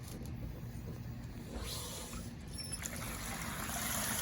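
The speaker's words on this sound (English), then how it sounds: "So I've got a water hose over here. Just stick it in" Water from a garden hose trickles and splashes into a container in a quiet, steady stream, faint and continuous with no talking.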